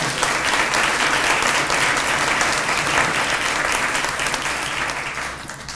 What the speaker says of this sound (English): Clap for that one more time if you will.